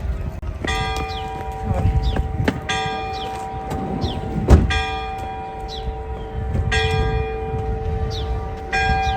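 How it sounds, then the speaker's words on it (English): Church bells ring repeatedly in overlapping, resonant strikes, loud and near, over low outdoor rumble with a single sharp knock midway, in Ledbury, England. "Church bells are just finishing ringing"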